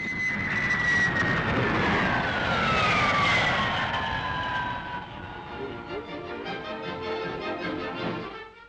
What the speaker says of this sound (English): Still supreme, the world-famous long-range jet airliner de Havilland Comet has a cruising speed of 490 miles an hour.